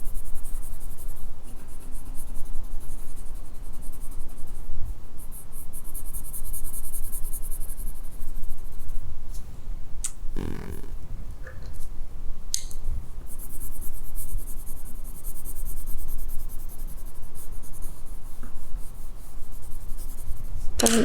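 Watercolour pencils scratch and rub on paper in continuous scribbling strokes, close and steady, with a brief pause and a few light taps partway through.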